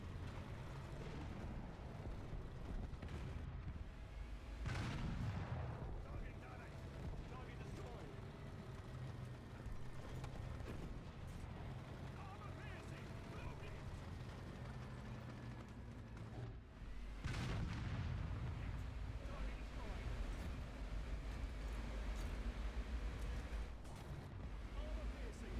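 Tank cannon fire from a Tiger E in War Thunder: two heavy booming shots roughly ten seconds apart, each followed by a rolling rumble, over a steady engine drone.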